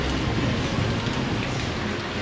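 Heavy storm rain pouring steadily in Baguio, a dense, loud, continuous wash of drops close by with no speech over it.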